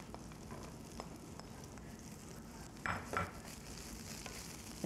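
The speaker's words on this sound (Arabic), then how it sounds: "نشوح البصل والفلفل" Onions and green bell peppers sautéing in a pan, a quiet steady sizzle with a couple of brief louder bursts of stirring or pan contact midway.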